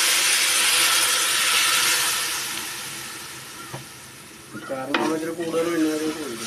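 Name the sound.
vinegar poured into pan, stirring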